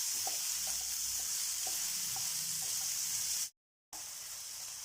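Steady sizzling of large tomato chunks sautéing in a pan, with a few light stirring clicks, briefly cutting to silence near the end.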